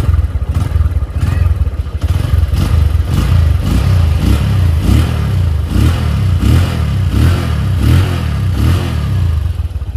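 A 2010 Honda Mega Pro Primus motorcycle engine runs close by with a loud, even idle, its rhythmic pulsing chug carrying steadily throughout with no talk over it.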